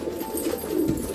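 A Rajshahi pigeon coos indoors in a house where the birds are fed during rain, a low throaty burbling rising and falling in one short continuous run with faint ambient noise.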